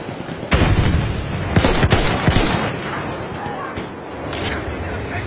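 Battlefield 1 gunfire, with several sharp rifle and machine-gun bursts crackling close by in quick succession amid game noise, easing off briefly before another shot near the end.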